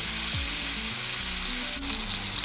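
Ribeye steak sears in a hot pan, a dense, steady sizzle and crackle running close and loud throughout with no talking.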